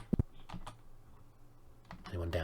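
Keys clacking on a computer keyboard, a couple of sharp close taps at the start and then scattered softer keystrokes, with a voice and background music rising near the end during a Dungeons & Dragons computer game session.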